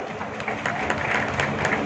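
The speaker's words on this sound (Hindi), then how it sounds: "जोरदार तालियों के साथ स्वागत, अभिनंदन।" An audience at a national convention in Kurukshetra gives a guest a burst of applause, dense clapping that swells and continues without a break.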